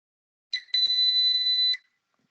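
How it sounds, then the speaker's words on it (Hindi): A steady, high electronic beep sounds once for just over a second after a brief blip, clean and isolated against silence. "फिर मतलब एक दफा बंद होने वाला बीप है"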